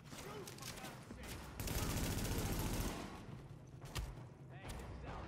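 Bursts of gunfire crackle through a firefight in The Division beta. The shots are close and dense, with a sustained volley in the middle, and people talk over the shooting.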